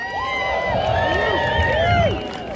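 Crowd at the Melburn Roobaix 2023 bicycle event prize ceremony whooping and cheering loudly at close range, with rising and falling shouts and whistling voices over a dense murmur for a couple of seconds.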